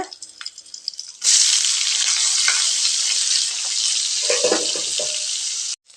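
Sliced onions sautéing with fennel seeds and chillies, a loud hissing sizzle that bursts in as they hit the hot oil and holds steady, with a few stirring scrapes, then stops abruptly.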